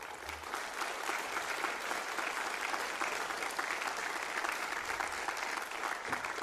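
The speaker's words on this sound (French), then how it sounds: "Vous pouvez les applaudir," An audience at the opening of a maritime forum applauds sea rescuers: sustained, even clapping from a seated crowd that fills the room at moderate volume for several seconds, with faint voices underneath.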